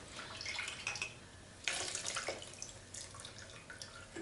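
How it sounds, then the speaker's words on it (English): Liquid is poured onto a bare hand, giving a faint, soft splashing trickle that swells briefly partway through against a quiet background. "No, I just poured it on my hand."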